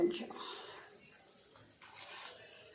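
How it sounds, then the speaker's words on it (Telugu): Water trickles and splashes softly as it is poured into bajji batter in two short, quiet bursts, with faint voices in the background. "దీంట్లో నీళ్ళు కలుపుకొని బజ్జీ పిండిలో కలుపుకుందాం."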